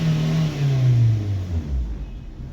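A Maruti Swift Dzire engine with a hard-starting problem revs up and then winds down, its pitch rising and falling over a couple of seconds, close and loud with no talking.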